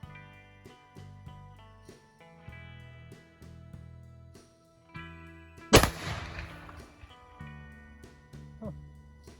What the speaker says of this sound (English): fire it so you can see what it looks like to fire a real 62 caliber Hawken